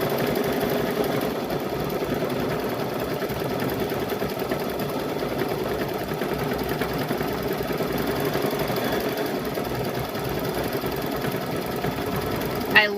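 An embroidery sewing machine stitches the first hooping of a patchwork quilt held in a magnetic hoop, a fast, steady mechanical chatter running continuously at moderate volume.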